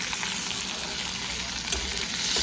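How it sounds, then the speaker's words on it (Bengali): Chopped tomato frying in a pan while masala poha is cooked, giving a steady, close sizzle that runs unbroken with light stirring noises throughout. "একটু ভাজা হোক, তারপর লবণ আর নুন আর হলদিটা দেবো"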